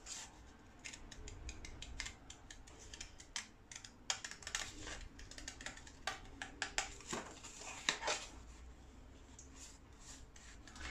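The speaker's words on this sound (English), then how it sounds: "And I'm using my Tim Holtz paper snips, which are by far my most favourite scissors ever." Tim Holtz paper snips cutting paper, a series of crisp irregular snips and clicks, close and fairly quiet, with no talking.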